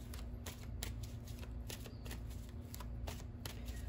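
Angel affirmation cards being shuffled by hand, a quick repeated riffle of close, papery flicks in a regular rhythm, alone with no talking.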